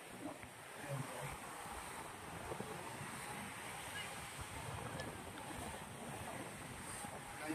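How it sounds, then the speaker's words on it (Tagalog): Large ocean waves surge and wash continuously against a windy shoreline, a dense, steady roar of surf with wind buffeting the microphone and faint voices in the distance. "Ang lalaki ng alon"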